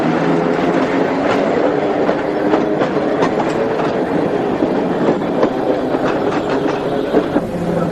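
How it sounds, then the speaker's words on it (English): A museum tram running on rails, wheels rumbling with a steady clickety-clack and occasional clatter, loud and close from inside the moving car, with no talking. "There are not many museums which you can ride around in a tram."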